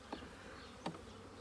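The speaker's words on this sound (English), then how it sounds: "now those bees are loose" Loose honey bees buzzing around an open hive during an inspection, a faint low hum with two brief louder passes as individual bees fly close.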